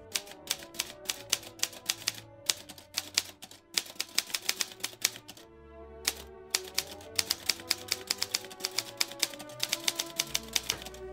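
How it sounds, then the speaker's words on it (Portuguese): Typing on a keyboard, loud and close, with rapid crisp mechanical key clicks in bursts and brief pauses, no voices. "eu acabei de digitar um prompt"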